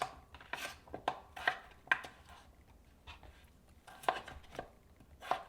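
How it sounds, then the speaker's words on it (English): A knife chops potatoes on a board for chana curry in a string of crisp, uneven taps, some doubled, close and fairly quiet with brief pauses between bursts. "this is how I was taught to cut my aloo potato for the curry chana"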